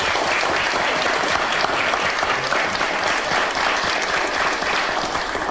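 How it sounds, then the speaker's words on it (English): An audience at a panel event on brain circuits and curing disease applauds, a dense, loud, steady round of clapping throughout. "may we have a round of applause for Bill?"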